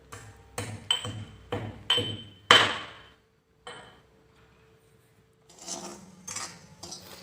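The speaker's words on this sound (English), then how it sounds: "Take 3 cardamom and ground them so as to give it a nice flavor." Three cardamom pods being ground for sooji barfi: a run of sharp, ringing knocks close by, followed by a pause and then softer scraping and clattering.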